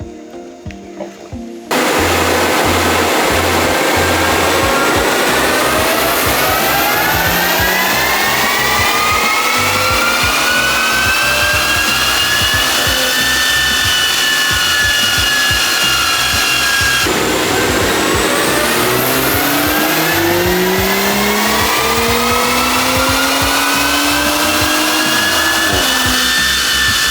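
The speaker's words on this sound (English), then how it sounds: "now we'll run it back again on the dyno and see what we make now" Audi B9 S5 with a Stage 1 tune on a chassis dyno, engine note climbing steadily through the gears in two long, loud pulls with a brief drop between, close and continuous with no talking.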